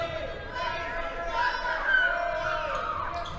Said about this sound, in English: The crowd trying to distract him as he shoots.